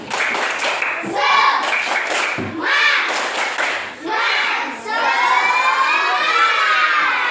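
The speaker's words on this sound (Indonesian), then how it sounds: "Mantap sekali, tepuk semangat" A primary school class performs the 'tepuk semangat' chant, bursts of rhythmic clapping alternating with children's shouted chant words; loud, close group sound in a classroom, ending in sung voices.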